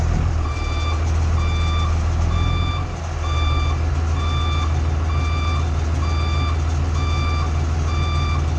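A skoolie school bus backs up while its reversing alarm beeps steadily at an even pace, high and clear over a low, constant engine rumble.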